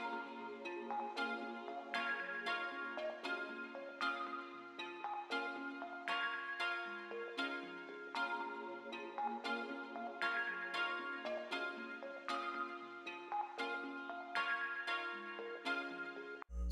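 Melodic trap beat verse built from a kalimba-style plucked melody played on guitar, a rippling arpeggiator line and a soft pad accent, steady and continuous at moderate level with a repeating bar pattern, no voices.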